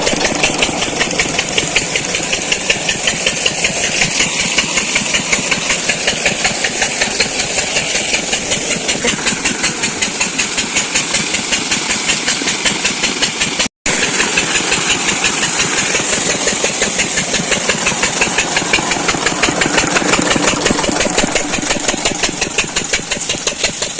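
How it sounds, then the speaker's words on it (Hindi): A farm water pump engine runs steadily out in the fields, a loud, close, rapid rhythmic chugging that holds even for about 24 seconds with one brief dropout midway, and no talking. "तो देखो इंजन चल रहा है"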